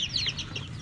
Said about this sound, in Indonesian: ayam kampung semua ya